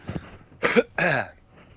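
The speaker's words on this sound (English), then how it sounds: "I got a cough" Two or three short, harsh coughs in quick succession, close and fairly loud, with a quieter throaty sound just before them.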